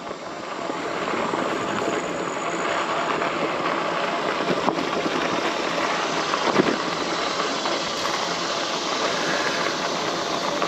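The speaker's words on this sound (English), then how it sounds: "I can hear engines, cars, somewhat close." Car engines run somewhere near a wooded trail, a steady, muffled mechanical drone heard at a moderate distance for the whole stretch, with no voices.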